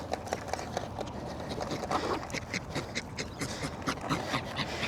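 A female dog pants hard and fast at a stadium, a steady rough breathing rhythm close to the microphone, with light scuffling and pattering alongside and no talk over it.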